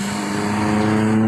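Large intercity buses pass a roadside bus agency on Jalan Soekarno-Hatta, a city road. A loud, steady diesel engine drones close by with a deep hum throughout.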